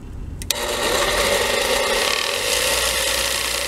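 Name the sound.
1950 Sears grinder sharpening a lawn mower blade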